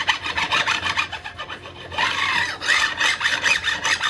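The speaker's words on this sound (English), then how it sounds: "you can hear with the file when it's" A metal file rasps in steady back-and-forth strokes, loud and close, beveling the fret ends on a Telecaster-style electric guitar neck.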